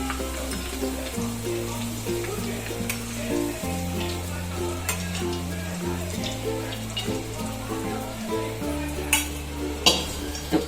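Oil tempering for dhokla, with curry leaves, green chillies and black and white sesame seeds, sizzles and crackles steadily in a pan, heard close up beneath a low, sustained musical backing.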